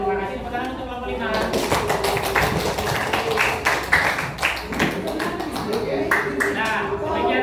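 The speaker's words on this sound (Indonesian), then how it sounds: "Tepuk tangan untuk kelompok 5" A school class applauding group 5 after their presentation, a burst of clapping from many hands with irregular sharp claps across several seconds, mixed with voices talking over it.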